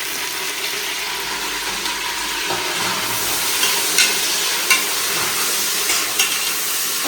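Onions fried golden brown with mint and coriander for veg biryani, giving a steady broad sizzle in a pan throughout, with a few louder stirring clatters near the end and no talk.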